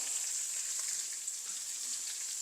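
Onion, curry leaves and green chillies sautéing in oil for tomato rice: a steady, even sizzle and hiss that runs continuously and fairly softly, with no voices.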